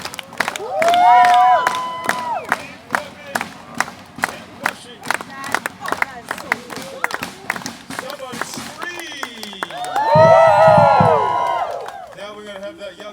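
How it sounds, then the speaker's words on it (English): An audience at the Polynesian Cultural Center in Oahu, Hawaii claps in a steady rhythmic beat, loud and close, with people shouting and cheering over it in swells. "Get ready and clap. Everybody, clap your hands."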